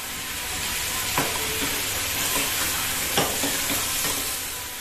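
Marinated, masala-coated arbi being stir-fried in a pan: a steady close sizzle with a few sharp scraping strokes of the spatula spaced through it, no voices.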